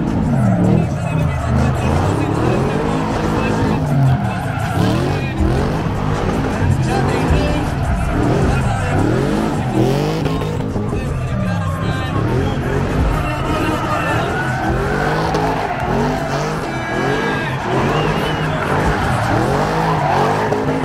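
Cars drifting at a meet, tires skidding and squealing amid engine noise over a steady, loud stretch, with a crowd's babble and talk running throughout.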